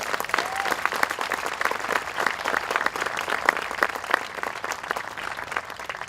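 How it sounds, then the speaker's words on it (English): Sustained applause from a crowd at a Memorial Day parade ceremony, dense steady clapping filling the whole stretch with no break. "I think we all owe them a round of applause."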